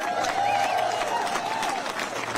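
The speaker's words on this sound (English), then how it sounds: "So give yourselves a big round of applause." An audience at a Texas Senate Democrats event in Boston applauds, a loud, dense and sustained wash of clapping from a crowd, with a little whooping or cheering over it.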